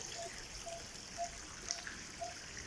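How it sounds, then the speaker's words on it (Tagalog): Spring water flowing into a freshly dug well in the hills of Los Baños, with a steady watery rush and small trickling drips at a regular pace, faint and distant-sounding. "Ang linaw na ng dating ng tubig."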